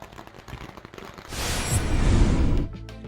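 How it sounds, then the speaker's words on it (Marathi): Firecrackers set off in a celebration right after voting, before the count, in Khed near Pune: a dense, loud crackling volley of rapid bursts swells for over a second, then cuts off. "अशी फटाक्यांची आतषबाजी करत मतमोजणीपूर्वीच असा जल्लोष केला"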